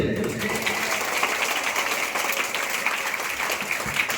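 Audience at a school arts festival clapping in a dense, steady burst of applause, with a voice speaking over it.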